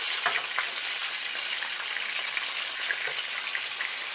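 Whole sausages sear in a hot pan with a dense, crackling sizzle and scattered pops, steady and close throughout, with no voices.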